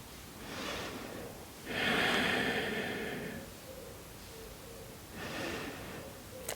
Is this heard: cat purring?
no